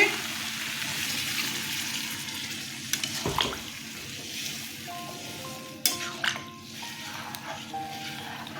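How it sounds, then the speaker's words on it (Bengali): Water is poured into a pan of sizzling soya chunk and potato curry, the hiss and splash rising over a steady frying crackle, with a few sharp clatters of a utensil near the pan. "জল দিয়ে দিচ্ছি"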